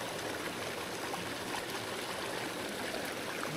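A small mountain stream flows in a steady, close, even rush of water, with no breaks and no voices over it.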